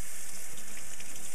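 Cold tap water runs steadily into a sink to rinse a knife used on onions, a continuous close splashing flow with no talk.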